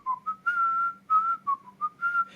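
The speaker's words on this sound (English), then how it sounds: "Snow White is teaching Dopey how to whistle, and they start singing about cleaning in the house." Clear, bright whistling of a tune from the Snow White film, a short melodic phrase of sustained and clipped notes played alone and close, with a faint low hum beneath.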